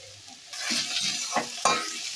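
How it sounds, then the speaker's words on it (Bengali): Radish ghonto with ghee and garam masala being stirred in a hot pan, a close sizzle with a few brisk scraping strokes, no voices. "ভালো করে মিশিয়ে নিলাম।"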